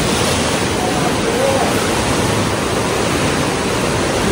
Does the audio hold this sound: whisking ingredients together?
no